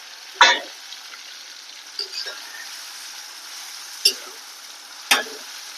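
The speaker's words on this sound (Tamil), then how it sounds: "இந்த மாதிரி மூடி எடுத்து ஒரு வாட்டி கிளறி விட்டுக்கோங்க" Vatha kuzhambu simmers in a pan with the lid lifted, a soft steady bubbling broken by a few sharp metallic scrapes and clinks of a spoon stirring, spaced a second or more apart.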